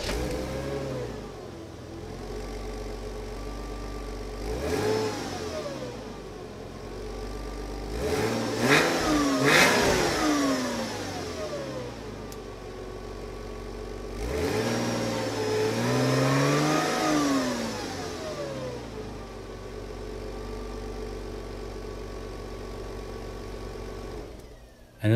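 Stock exhaust on a Porsche Boxster 986 revving repeatedly, several sharp throttle blips rising and falling over a steady idle, close and loud with no talk.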